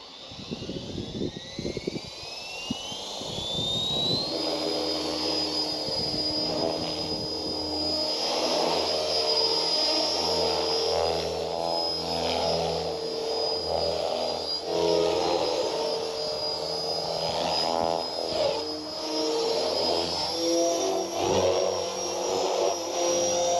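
An Align T-Rex 470L RC helicopter fitted with a Hobbywing 60A ESC spins up with a rising whine, then flies with a steady high-pitched motor and rotor drone that shifts slightly in pitch as it moves, with no speech.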